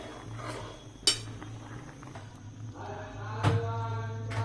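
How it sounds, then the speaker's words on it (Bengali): Kamini bhog rice payesh with cinnamon and bay leaves being stirred in a pot, with quiet scraping and two sharp metallic clinks of utensil against the pot over a low hum. "এইভাবে অনবরত নাড়াচাড়া করতে হবে।"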